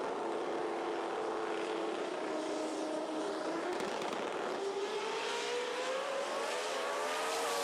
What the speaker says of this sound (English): it's just a pleasure to listen to that car that Gary White has